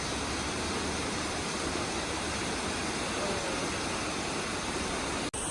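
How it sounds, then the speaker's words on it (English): A continuous, loud rush of water from a waterfall on the Franklin Ghost Town trail, heard up close as a steady wash of noise with a brief dropout near the end and no speech. "we found the waterfalls right behind us, guys"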